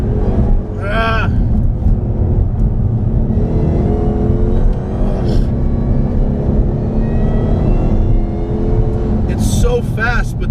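A Hennessey HPE750 Mustang accelerates hard around a race track, its loud engine roaring close and steady with rising and falling pitch through gear changes, while a driver talks over it.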